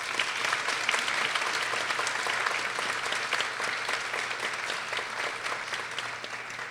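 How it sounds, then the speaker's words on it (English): Sustained audience applause at a Dean's List recognition ceremony, with many hands clapping in a dense, steady wash that holds evenly for the whole stretch without voices. "let's give them a round of applause."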